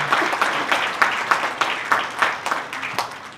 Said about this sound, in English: Can we have one round of applause for Opadeyi for this wonderful message?